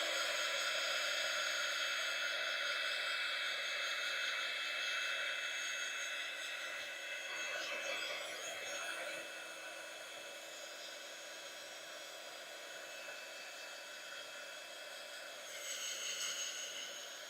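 A heat tool blows a steady, moderately loud whoosh of hot air over watercolour paint on Fabriano paper, the tone dipping and softening midway, then swelling again near the end, with no voices.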